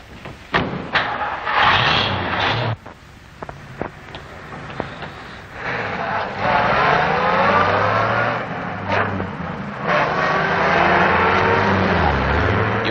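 An old car starts up and pulls away, its engine rising and steadying after a few sharp door-like thumps and clunks, fairly close and loud.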